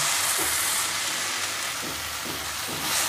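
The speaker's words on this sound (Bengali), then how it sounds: "এবার আমি ভেজে রাখা ফুলকপিগুলোর মধ্যে দিয়ে দিলাম" Fried cauliflower goes into a pan of spiced potatoes and sizzles loudly and steadily, a broad hiss of frying that holds throughout with a few soft stirring bumps.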